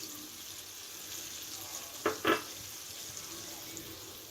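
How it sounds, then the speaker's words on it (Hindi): Yogurt chili masala with tamarind pulp frying gently in a pan on a low flame: a soft, steady sizzle runs throughout, with two brief louder bursts near the middle as the mixture is stirred. "और इसको हम भूनेंगे 1 से 2 मिनट। लो फ्लेम पर ही भूनना है इसको।"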